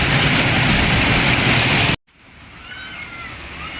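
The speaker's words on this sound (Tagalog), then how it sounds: "tuloy-tuloy pa rin ang ulan" Heavy rain pours in a steady loud roar during a flood, then cuts off abruptly, leaving a quieter wash of falling water.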